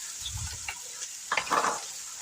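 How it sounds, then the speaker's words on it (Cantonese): Ginger and chili hit hot oil in a wok over high heat, giving a brief burst of sizzling and stirring with a few soft clatters, fairly close and loud. "大火熱鑊，以下3湯匙油，油熱，10g 薑蓉，10g 辣椒絲"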